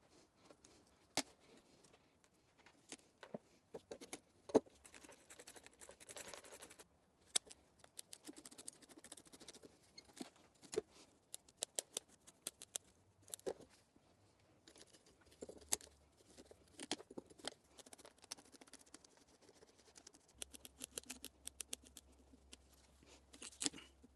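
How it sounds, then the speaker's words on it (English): Small snips and clicks from cutting the larger roots of a Japanese maple during repotting, scattered irregularly and faint, close up with no talk. "I'm going to go ahead and trim these bigger roots"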